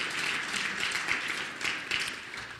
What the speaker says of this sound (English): Let's give the state a round of applause.